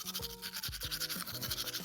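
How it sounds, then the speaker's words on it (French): Toothbrush bristles scrub against teeth with toothpaste in quick back-and-forth strokes, close and rhythmic, over a faint background of music. "attrape ta brosse à dents, ton dentifrice, et tu frottes jusqu'à ce que l'histoire soit terminée"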